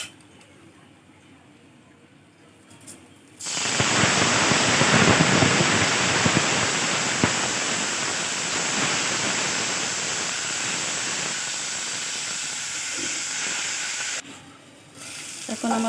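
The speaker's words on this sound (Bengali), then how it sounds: "এখন আমার পোলাও চালগুলো ভাজা ভাজা হয়ে গেছে।" Pulao rice frying in a pan with bay leaves and garam masala, a loud steady broadband sizzle that starts abruptly after a quiet moment and holds for about ten seconds before dropping away, with no voices.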